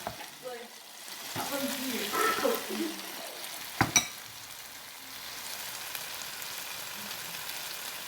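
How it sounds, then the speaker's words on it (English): Oxtail stew cooking in a pot gives a soft, steady sizzle and bubbling, with a voice briefly talking early on and a couple of sharp pot or utensil knocks partway through. "so let it simmer right there while you're getting ready"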